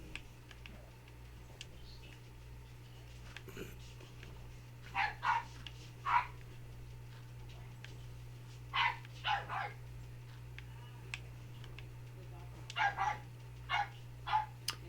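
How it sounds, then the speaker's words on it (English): New puppies bark in the background of a game stream, several short clusters of yips and barks scattered over a steady electronic hum, distant and moderate. "It's the new puppies we got."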